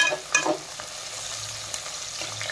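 Curry leaves and garlic tossed briefly in hot oil in a pan, a close crackling sizzle with a couple of sharper spits near the start as the mix is stirred.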